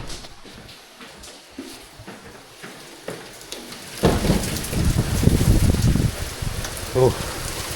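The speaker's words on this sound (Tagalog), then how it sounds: "Tapos ang lakas ng ulan." Heavy rain pours steadily, swelling louder midway into a dense, close roar on surfaces, with a brief bump near the end.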